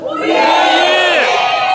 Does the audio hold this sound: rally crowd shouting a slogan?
yes